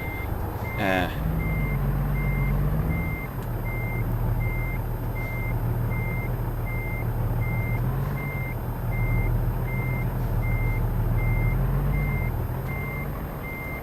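Truck reversing alarm in American Truck Simulator beeping in a steady, even rhythm over a low, constant diesel engine drone at low revs, loud and close, with no talking.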